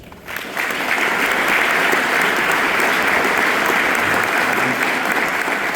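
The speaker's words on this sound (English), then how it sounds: "I want you to give yourselves a round of applause" Loud crowd applause at the Heritage Farm Celebration on the Krienke Farm in Perryton, Texas, swelling in quickly after a brief quiet start and holding as a dense, continuous roar of clapping.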